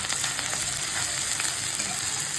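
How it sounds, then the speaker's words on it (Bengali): Chopped onion sizzles and fries steadily in a pan, a dense continuous crackle close by with occasional stirring and no talking. "পেঁয়াজটা একটু হালকা ভাজা ভাজা করে নেব"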